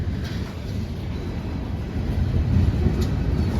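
A CSX freight train of coil cars rolls past at its tail end on a cold, windy day, a steady low rumble and rush of wheels that swells slightly toward the end of the short stretch.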